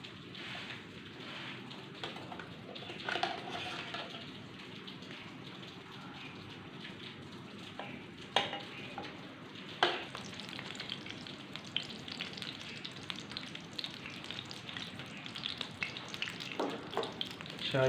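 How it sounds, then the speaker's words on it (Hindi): Ghee heats and sizzles in a kadhai on the stove, a soft continuous crackle broken by a few sharper pops and clinks, with no voices. "कढ़ाई को हम चूल्हे पे चढ़ा लेंगे। सबसे पहले हम इसमें डालेंगे घी।"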